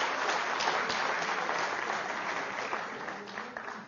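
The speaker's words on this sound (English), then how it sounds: "let's give all 4 of these people a nice round of applause" An audience claps steadily for four volunteers at a mathematics-themed magic show, a dense, sustained round of applause that holds level and then tapers slightly toward the end, with no one speaking over it.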